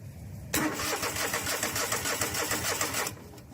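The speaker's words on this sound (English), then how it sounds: "Now we're back in business and our engine is turning" An engine cranks over on the starter, powered by a battery lead touched to the switch post, and spins at a fast, even, rhythmic churn for about two and a half seconds before cutting off.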